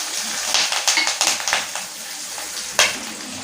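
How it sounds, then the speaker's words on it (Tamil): Broken dried red and green chillies fry in hot oil with popping mustard seeds for a tiffin sambar, sounding as a close run of rapid crackles and sputters that fades into a steady sizzle, with one more sharp pop near the end. "நல்லா கடுகு நல்லா பொரிஞ்ச பிறகு வரமிளகாவும் பச்சை மிளகாவும் நான் கிள்ளி வச்சுருக்கேன்"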